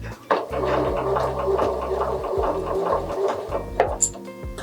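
A sewing machine stitching a seam on a zippered fabric pouch, running in a steady rapid throb with brief stops and restarts, close and fairly quiet.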